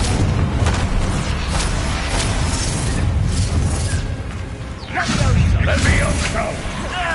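Confringo spell explosion in the fantasy video game Hogwarts Legacy: heavy booming bursts and a rumbling blast with magical whooshes, loud and dense, a renewed surge after a brief dip, with voices over the action.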